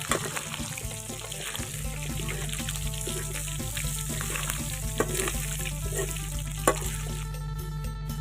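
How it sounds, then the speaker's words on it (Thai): Pork stir-frying in a pan for a northern Thai dish, a steady continuous sizzle with scraping stirs throughout, close and fairly loud, with a few sharper clinks near the end. "อันดับแรกเขาก็จะ เออ่อดหมูนิดหน่อยนะเจ้าคั่วหมู ให้แ้มๆหน่อยเจ้า"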